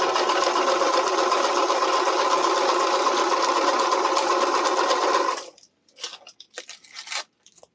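A sewing machine runs in one steady, continuous burst while stitching bias tape onto fabric for RV reflector window shades, then stops abruptly, leaving a few faint handling rustles.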